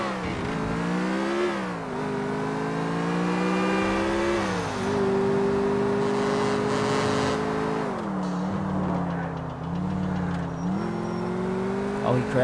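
A car engine in Grand Theft Auto IV revs hard and steadily as the car escapes, its pitch rising and dipping through gear changes over about twelve seconds, loud and continuous.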